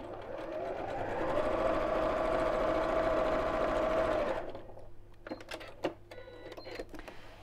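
A sewing machine stitches fabric in a steady whirring run for about four seconds, then stops, followed by a few sharp handling clicks and taps.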